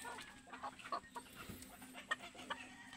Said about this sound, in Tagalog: So ito mga ka-farm yung nanay at tatay ng ating Chinese chicken.